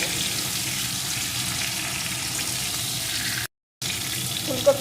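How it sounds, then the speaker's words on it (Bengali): Cauliflower frying in hot oil just after fish was fried in it, a steady loud sizzle with watery hiss running throughout and a brief dropout near the end. "এখন এই তেলের ভিতরে আমি ফুলকপিটা দিয়ে দেবো এখন ফুলকপিটা একটু সুন্দর করে এইভাবে ভেজে নেব"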